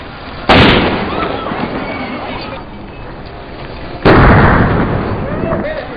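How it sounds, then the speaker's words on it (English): Two sharp, loud blasts from a concussion grenade going off, each followed by a ringing, noisy decay, several seconds apart. "This is a concussion grenade. This is designed to snap and go bang."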